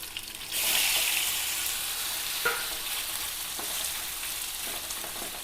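Pieces of vilameen fish frying in hot oil, a loud, steady sizzle and crackle that swells early and holds throughout with faint stirring ticks and no voices.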